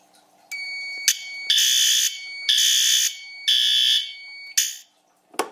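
A fire alarm panel sounds during a zone 5 system test: four loud, sustained electronic alarm blasts with steady high tones pulse at regular intervals over a faint background hum, ending with a short final burst.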